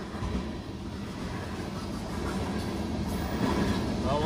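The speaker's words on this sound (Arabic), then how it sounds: "هذا القطار" A goods-laden freight train rolls past close by, a steady loud rumble of wagons and wheels that builds slightly toward the end, with no talk.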